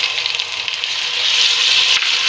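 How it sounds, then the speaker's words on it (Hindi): Ginger garlic paste frying with pinkish onions in a pot for shaljam gosht, a loud close hissing sizzle that swells steadily, with no talking. "अदरक लहसुन के पेस्ट को बस मैं थोड़ा सा चलाऊँगी।"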